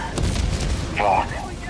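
A rocket explosion in Helldivers 2 lands as a short, muffled boom with a low rumble, followed by brief game sound effects.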